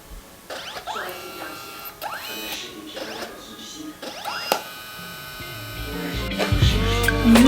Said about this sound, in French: l'imprimante elle met un coating, donc une protection